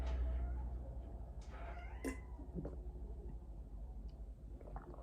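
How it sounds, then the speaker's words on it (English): A pet cat meows and caterwauls in a room during an indoor reading, a few brief, fairly faint cries scattered over a low background rumble. "And don't mind my cat in the background."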